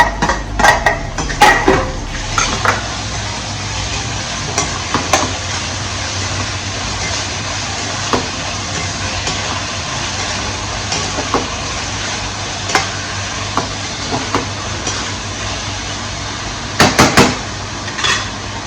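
Chopped tomatoes go into browned onions frying in oil in a pan, with a steady sizzle and repeated sharp scrapes and clinks of a spoon stirring against the metal.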